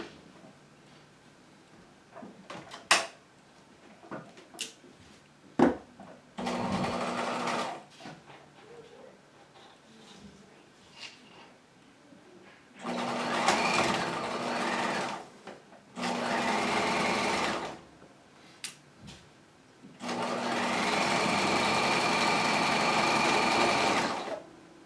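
Sewing machine stitching two pant front pocket pieces together, lining and pocket stay, in several loud bursts of steady whirring of a few seconds each, separated by quiet pauses and small clicks of handling the fabric.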